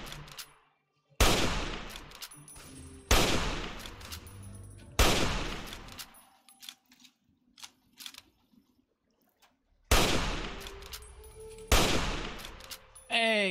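Heavy gunshots in Fallout 3 ring out one at a time at spaced intervals, each a sharp loud crack with a decaying tail, with faint talk and small sounds in the quiet gap between shots.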